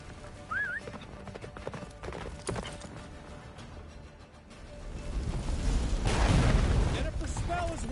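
Roach, Geralt's horse in The Witcher 3, gallops through a blizzard with a steady, rapid clip-clop of hooves that grows louder toward the end, mixed with wind, rumbling game effects and a brief voice.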